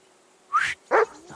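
A dog in the medieval video game Kingdom Come: Deliverance 2 gives two sharp, close barks in quick succession, then a softer trailing yip, with no talk over it.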